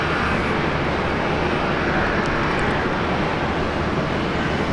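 An Airbus A350 at Brisbane Airport produces a broad, steady jet-engine roar, constant and moderately loud throughout without breaks.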